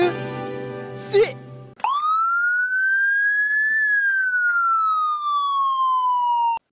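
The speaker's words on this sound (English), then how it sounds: "An ambulance." A single siren wails steadily and loudly, a long rising then slowly falling tone close by, starting abruptly after a brief burst of noise.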